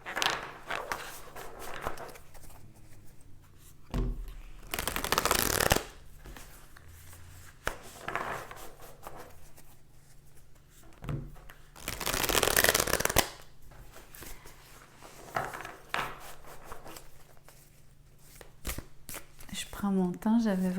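Tarot cards being shuffled by hand in two bursts of riffling, each about a second long, over a quiet background with soft handling noises and scattered talk between.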